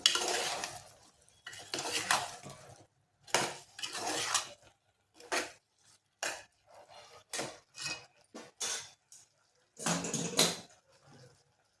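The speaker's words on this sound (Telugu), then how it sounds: "ఒక స్పూన్ అయితే ధనియాల పొడి వేస్తున్నాను వేసినాక మెల్లగా ఒకసారి కలుపుకుంది" A spoon scrapes and stirs coriander powder into a tamarind curry of dried fish, brinjal and tomato in a pan, about ten short, distinct scraping strokes in uneven bursts with pauses, close and moderately loud, no voices.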